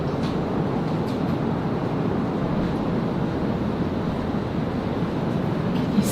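Heavy pouring rain during a thunderstorm, a dense, steady broadband roar with no breaks, heard close and fairly loud.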